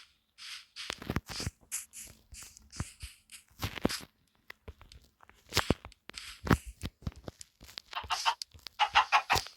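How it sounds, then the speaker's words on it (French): Several hens clucking nearby in a series of short, sharp, irregular clucks and squawks, loud and close, with brief quiet gaps between bursts. "Il y a deux petits poules ensemble"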